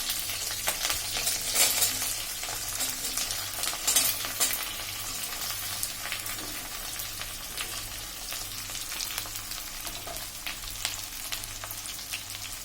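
Raw banana vegetable for a fasting dish fries in oil in a pan while being stirred: a steady sizzle with intermittent scraping from the stirring, close by and without speech.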